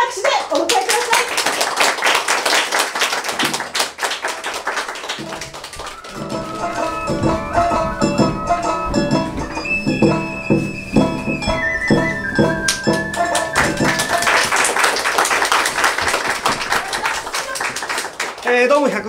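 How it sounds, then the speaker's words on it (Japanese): Rakugo theatre audience claps in welcome as the performer comes on, loud sustained clapping that surges again near the end, with music playing underneath through the middle. "盛大な拍手でお迎えください。"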